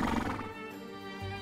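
A horse gives a loud, close whinny that starts strong and trails off into a wavering neigh, with no talking over it.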